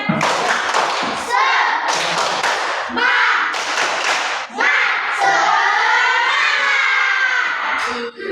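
An audience performs a rhythmic spirit clap, with sharp, patterned claps and thumps under loud group chanting and shouting voices.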